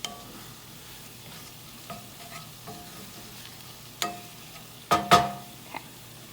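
Tomatoes are pressed and stirred in a sizzling pan while making a creamy tomato and spinach pasta, with a faint frying hiss under a few scattered scrapes and louder clacks near the end.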